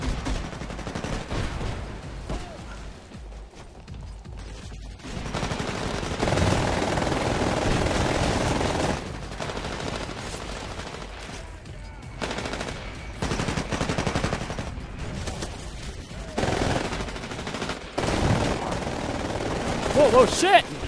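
Machine gun fire in Titanfall, repeated bursts of rapid automatic shots over about twenty seconds, some long and some short, with a voice talking over parts of it.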